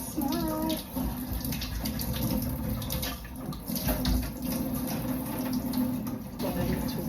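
Tap water running steadily into a sink while a few kitchen utensils are washed, a loud, continuous close-up splashing rush with faint clinks and no pauses.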